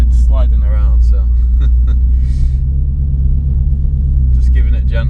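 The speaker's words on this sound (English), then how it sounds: "just giving it gentle throttle application" A Shelby GT350 rumbles low and steady under light throttle while sliding in snow, with someone talking over the engine at the start and end.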